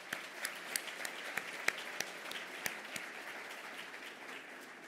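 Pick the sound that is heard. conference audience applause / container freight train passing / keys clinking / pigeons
conference audience applause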